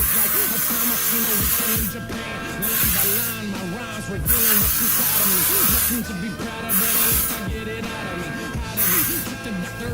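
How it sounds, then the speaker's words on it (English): Several short hissing sprays of hairspray on the front curls of a curly wig come in bursts, with a steady background hum and music-like tones running throughout. "add a little bit of hairspray in the front area so the curls stay tight"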